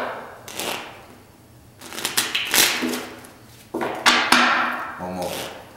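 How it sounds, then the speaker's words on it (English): Quick papery riffles and flutters of cards being shuffled, several bursts in a row at close range, with a few soft taps between them. "I will shuffle."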